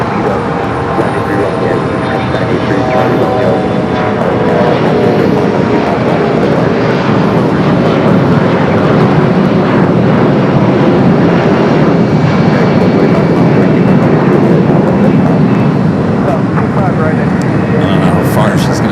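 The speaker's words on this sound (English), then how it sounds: "Flight coming up from Mexico City, flight 910. It's a 15-year-old converted A330-200." A 15-year-old converted Airbus A330-200 cargo jet from Mexico City at LAX gives a continuous, loud engine rumble with a faint high whine, and a person talks over it.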